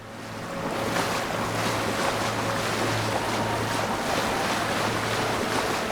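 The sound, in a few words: wading through water in the video game Avowed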